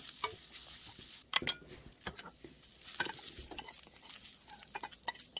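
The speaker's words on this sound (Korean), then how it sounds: "무를 한번 살짝 볶아서 그 냄새를 좀 줄이려고 그래요." Dried radish strips stir-fried with scallion and garlic in a pan, a light crackling sizzle broken by frequent scraping and clinking of a utensil against the pan, fairly quiet and close.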